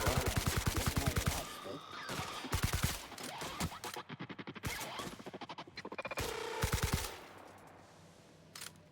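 Rapid automatic gunfire in The Outer Worlds sci-fi shooter, fired in repeated fast bursts with short pauses between volleys, loud and close, with brief impact crashes mixed in.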